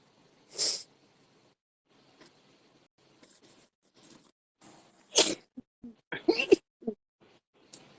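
A single sneeze indoors during a quiet watercolor painting session, followed a few seconds later by a brief cluster of sniffs and breathy noises, with near silence in between.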